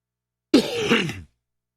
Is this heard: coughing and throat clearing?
yes